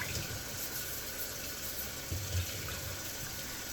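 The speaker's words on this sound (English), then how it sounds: "I'm going to drain this water and rinse my potatoes with just clean water" Tap water runs steadily into a sink while potatoes are drained and rinsed, giving a soft, even rush of water with a slight swell near the end.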